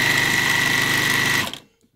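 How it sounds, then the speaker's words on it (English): A sewing machine stitches straight across a hooded towel with a fast, even mechanical chatter for about a second and a half, then stops abruptly into quiet. "I put it onto the machine with the hood facing up on this side, and I sew all the way across."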